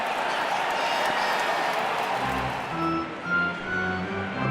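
A baseball stadium crowd of thousands on its feet roars in a continuous broad wash of cheering and clapping during a postseason game, with a commentator's voice faintly over it.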